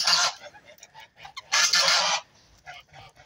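Geese honk loudly in two strong bursts, close by, with softer honks and calls scattered between them.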